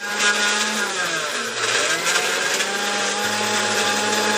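A blender whirs loudly and continuously, blending fig juice with sugar, its motor pitch dipping briefly as it churns, then settling into a steady drone.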